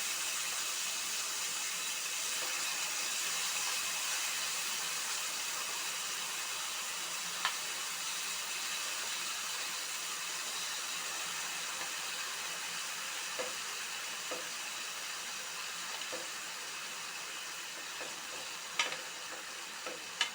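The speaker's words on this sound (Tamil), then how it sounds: "இப்போது ஒன்று ஒன்றா ஒட்டாத அளவுக்கு நீங்கள் அழகாக போட்டுக்கோங்க நெத்திலி மீனை." Anchovies frying in shallow oil in a pan give a steady, dense sizzle throughout, with a few faint clicks and taps from a utensil scattered over the continuous crackle.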